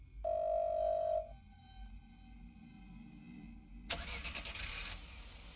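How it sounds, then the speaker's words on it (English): A car engine turns over and catches outside a door in a ghost-detective crime video game, first a steady mid-pitched starter tone, then after a quieter stretch a loud broadband roar as it revs and pulls away. "The sound of a car starting is coming from outside the door."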